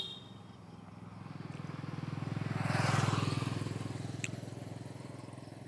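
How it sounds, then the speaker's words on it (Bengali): A Pulsar NS160 motorcycle engine, just adjusted to fix a sound problem, idles close by with a rapid, even putter, swelling to a brief rev in the middle before settling back. "আমরা সুন্দরভাবে কাজটা করাই দেব দিয়ে আপনাদের সাউন্ডটা শোনাবো তো বাইকটি কেমন হলো"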